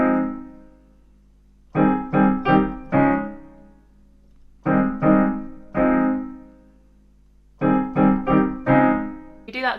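Piano chord accompaniment for a song, with clear sustained chords struck in short groups of repeated hits separated by pauses, loud and close with no talking.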